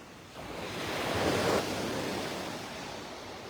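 Ocean surf rolls onto a beach in North Naples, Florida as a soft, broad wash that swells in the middle and then eases off, with light wind noise and no voices.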